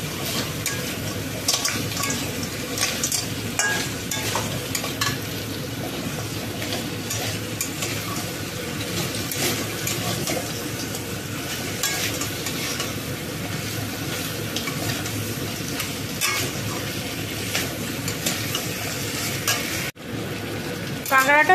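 Crabs stir-fried in a cooked spice masala make a loud, constant sizzle with frequent scraping and clattering of a utensil in the pan, close up and steady throughout.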